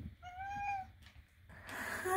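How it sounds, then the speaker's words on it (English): A kitten gives one clear, rising-and-falling meow close by, followed by soft rustling and a brighter burst of noise. "What a happy sweet kitten."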